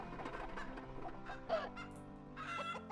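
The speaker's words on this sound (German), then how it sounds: "Oh, wir haben Hühner." Chickens in the farming game Farm Manager World, several quiet, close clucks and short squawks in irregular bursts over a soft game soundtrack.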